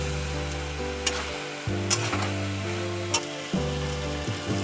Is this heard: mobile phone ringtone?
no